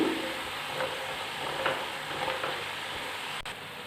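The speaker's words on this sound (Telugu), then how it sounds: "ఇప్పుడు నేను వీటిని బ్రౌన్ కలర్ వచ్చేంత వరకు బాగా కాల్చుకుంటాను." Chakodilu, a Telugu snack, frying in hot oil over a low flame until brown: a steady, close crackling sizzle with faint stirring clicks, continuous throughout and with no talking.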